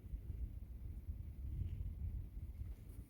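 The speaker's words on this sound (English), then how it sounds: "Pretty windy out right now" Wind gusts outdoors on the Appalachian Trail, a low, rumbling buffet against the microphone that swells and eases steadily throughout, fairly soft with no other clear sounds.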